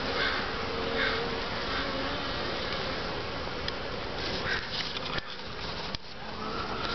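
Honeybees buzz in a dense, continuous swarm around top bar hives on a mild late-February day, many insects droning close by with a few passing louder.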